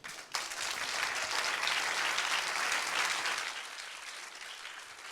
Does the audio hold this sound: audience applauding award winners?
yes